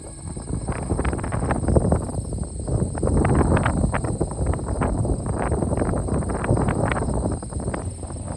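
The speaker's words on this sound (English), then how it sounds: "Hopefully the wind dies down just a little bit." Strong wind roars across the microphone while cycling outdoors in the hilly Driftless Region of Iowa, a loud, continuous buffeting rumble with gusty fluctuations that lasts throughout and drowns out everything else.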